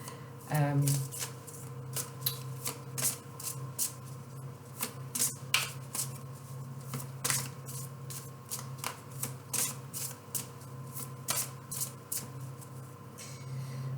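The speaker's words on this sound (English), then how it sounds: "give the cards a good shuffle" Playing cards riffle and slap repeatedly in quick, crisp bursts, close and fairly soft, with a person speaking quietly over the shuffling.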